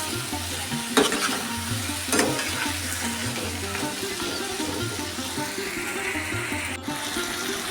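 Prawns and potato frying with spices in oil, a steady close sizzle with repeated scraping stirs and a couple of sharper spatula knocks against the pan.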